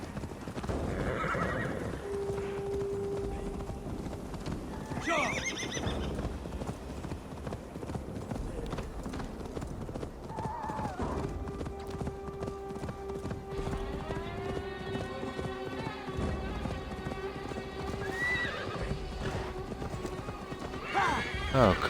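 Horse hooves clip-clop at a gallop with repeated neighs and whinnies in Assassin's Creed Valhalla, steady and close under game music and someone talking.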